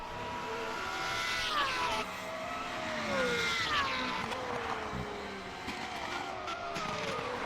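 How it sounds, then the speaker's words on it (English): Super Formula race car tyres lock up and squeal under braking into a turn at Sugo, long wavering screeches sliding in pitch over the roar of engines, no talk. "Down into the turn after the back straight. Still locking up the tyres."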